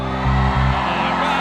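A loud, close burst of arena fans at the Istora venue during Festival Marapthon, voices whooping and shouting together in a brief surge of cheering.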